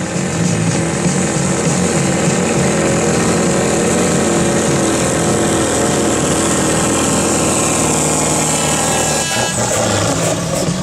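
A racing kart engine at a junior qualifying session in Werkhoven revs loud and continuous, a dense buzzing drone held steadily throughout with a slight shift in pitch near the end.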